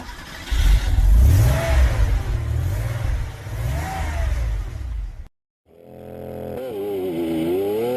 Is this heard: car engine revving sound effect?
yes